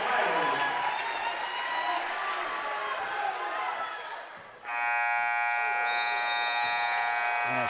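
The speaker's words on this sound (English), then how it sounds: "And a shot by Davis almost goes in right at the buzzer." A long electronic buzzer ends the first half of a regional championship high school basketball game, sounding loud and steady after crowd noise, running shoes and an announcer's voice.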